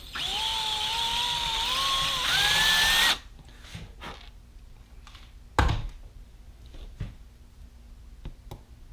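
A small drill bit whines for about three seconds, its pitch rising, then stops while cleaning paint from holes in a 1:64 scale model; a few soft clicks and light taps follow in near quiet.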